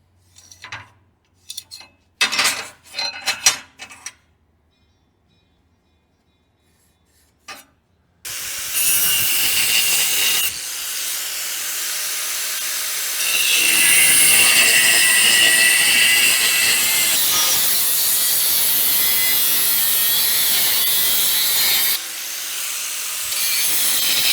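A 1/8 to 3/16 inch piece of metal being cut, a loud sustained grinding and rasping that runs for about sixteen seconds after a few short knocks and clanks.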